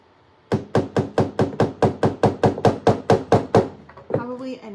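A hammer strikes pieces into place in a rapid, steady run of about fourteen loud, close blows, followed by a few softer knocks as a voice comes in.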